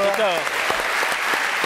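Studio audience applause on a French TV show, dense steady clapping throughout with a brief spoken word over the opening moment.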